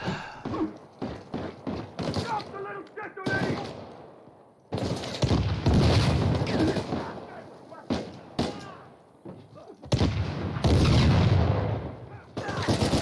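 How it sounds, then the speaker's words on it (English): Sniper and other gunfire in Uncharted 4: A Thief's End on PS5: loud, sharp broadband shots in irregular bursts, some close and clustered, mixed with in-game clatter and thuds across the stretch. "we got killed by a sniper"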